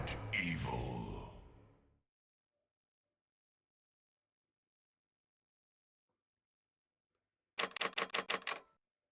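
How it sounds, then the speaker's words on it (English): A typewriter in the video game Resident Evil gives a short, rapid run of crisp mechanical clacks near the end, after a breathy vocal sound and a long stretch of silence. "Do love the typewriting sound."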